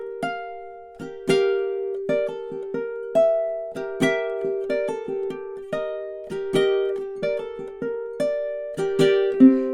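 Fingerpicked ukulele plays a four-bar phrase of a spooky melody, moving through a minor chord and back, with crisp repeated plucks and sustained notes, close and alone.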